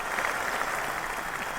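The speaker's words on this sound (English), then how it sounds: "Nice round of applause." Steady applause from a crowd, an even wash of many hands clapping at moderate loudness for a short stretch, with no one talking over it.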